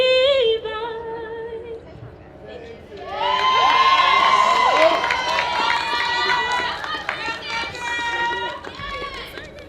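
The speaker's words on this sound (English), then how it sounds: "Let's give her another big round of applause, as well as the CAU Philharmonic Society." A crowd at a university tree-lighting event cheers and whoops after a solo singer's carol with a philharmonic choir. A sustained final sung note gives way to a swelling roar of shouting, excited voices.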